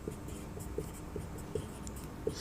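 Pen scratching on paper by hand during a Class 10 maths lesson on polynomials, short strokes in an irregular rhythm at close range, fairly quiet and without speech.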